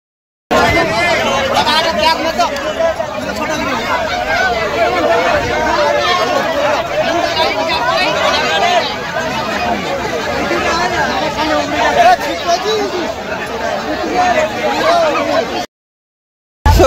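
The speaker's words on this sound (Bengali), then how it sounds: "দেখো ভিড়" A dense crowd at busy Sealdah railway station chatters nonstop, many overlapping voices forming a loud, close, continuous babble with people talking all around.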